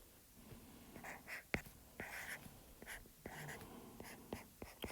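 Pen strokes scratch across paper as a density formula is written out by hand, short bursts of writing broken by small taps and pauses, close and quiet.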